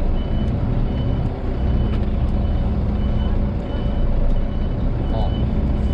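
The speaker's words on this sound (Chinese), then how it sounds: "然后我们现在倒车" A Volvo articulated truck reverses, its repeated backup beeps sounding at a steady rhythm over a low engine drone, with faint air-brake hiss.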